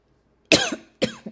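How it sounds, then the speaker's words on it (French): Two sharp coughs in quick succession from a woman with a sore throat, close and fairly loud, with silence before them. "je vais tousser un peu parce que ma fille m'a filé son mal de gorge"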